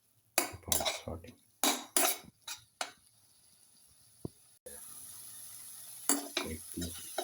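Egg, spinach and cooked rice sautéed in a pan, with repeated scraping and stirring strokes of a utensil against the metal, light clinks and a faint sizzle filling the quieter stretches.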